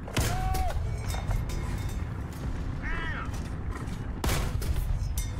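Tank cannon fire in the War Thunder video game: two loud, sharp gun blasts open and close a dense stretch of rumbling battle noise and mechanical creaks, with faint chirps in between.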